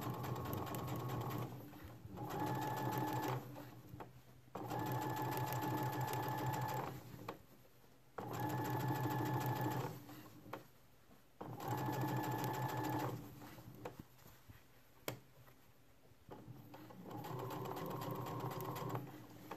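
A sewing machine stitches bias tape onto shorts in rhythmic bursts of steady mechanical whirring, each run lasting a couple of seconds with short pauses between, close and clear.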